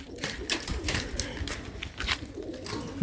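Pigeons coo inside wire-mesh lofts, soft repeated throaty calls that come in uneven bursts at moderate distance.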